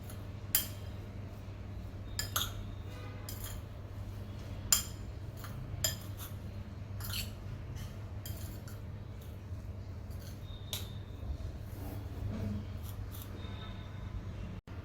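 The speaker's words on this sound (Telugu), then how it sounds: "కూరగాయ ముక్కలన్నీ వేసుకున్న తర్వాత వీటిని ఒకసారి బాగా కలుపుకోవాలి." Chopped tomato, coriander and vegetable pieces are stirred together in a bowl with a utensil, making scattered light clinks and scrapes over a steady low background hum.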